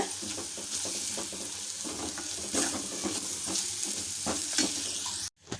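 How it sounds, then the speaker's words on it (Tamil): Urad dal is sautéed in a pan over a medium flame, crackling steadily while a spoon stirs and scrapes through it at close range. The sizzle cuts off abruptly near the end. "அடுப்பை மீடியம் ஃப்ளேமில் வச்சுட்டு விடாத வதக்கிக்கோங்க"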